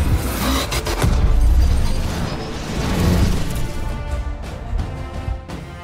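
Tank cannon fire in a combat scene: a heavy, booming blast rises and rolls out, followed by a second swell of rumbling impact and a fading mechanical clatter.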